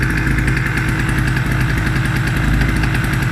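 A 750W mini generator runs steadily after starting, a loud, close, even engine drone with a fast throbbing pulse and no break, the cylinder slightly smoking.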